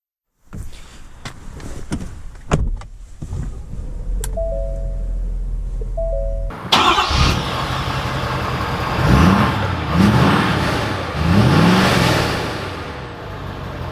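A 2020 Ford F-350 Lariat Dually pickup: a few clicks and chimes inside the cab, then the engine starts and the truck pulls away with a rising, loud diesel rumble and shifting revs.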